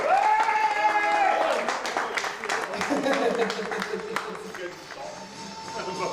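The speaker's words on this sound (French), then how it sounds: "on va pouvoir applaudir bien fort Enrico." An audience applauds at a stage magic show, a steady wash of clapping mixed with background music and voices talking over it.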